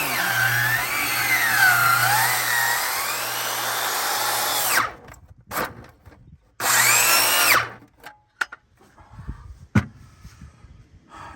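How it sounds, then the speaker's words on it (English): A power saw whines loudly as it cuts into a speaker enclosure, with a long continuous run, a pause, then a second shorter burst, followed by scattered knocks and handling noise. "Now, I need the circular saw and a cord."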